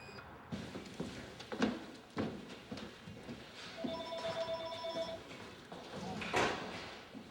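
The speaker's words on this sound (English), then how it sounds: "phone is constantly ringing with crisis calls" A telephone at a crisis hotline office rings in a short electronic burst amid clattering, thumps and rustling room noise, moderately close and fairly quiet.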